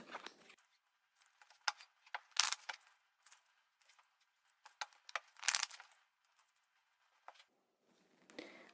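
Tarot cards are shuffled by hand at a reading table, soft scattered riffles and flicks in quick irregular bursts, close and faint, with quiet pauses between.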